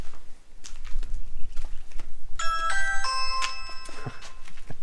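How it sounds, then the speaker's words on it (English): A doorbell chime for a home in Perth rings out remotely in the Australian outback: a short bright run of electronic ding-dong tones over faint background rustle and distant footsteps. "when somebody rings your doorbell back at home, back in Perth, 700 kilometres, 800 kilometres away, your doorbell goes off"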